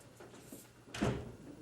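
A back door swings open with a single muffled thump and rattle, close by and fairly quiet, with no voices over it.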